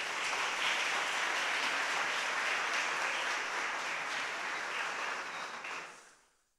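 Congregation at a church conference applauding in a broad, sustained wash of many hands, steady and strong for several seconds before fading out quickly at the end.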